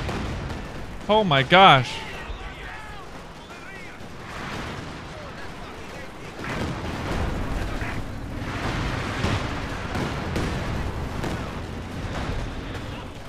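Creeping artillery barrage in a first-person war video game: a couple of loud nearby blasts early on, then a long rolling rumble of distant explosions and gunfire, with a player's voice heard over it.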